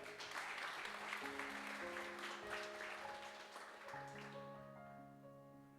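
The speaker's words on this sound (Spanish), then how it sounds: "Denle ese aplauso al Señor esta mañana." Church congregation applauding during a Sunday morning service, a steady wash of clapping layered with sustained musical tones that continue after the clapping fades near the end.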